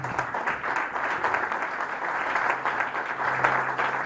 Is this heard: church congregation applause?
yes